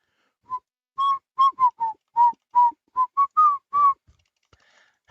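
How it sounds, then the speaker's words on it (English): A person whistles a short, choppy tune of about a dozen clear, separate notes, close and alone, with a faint rustle at the end. "I'll try not to whistle."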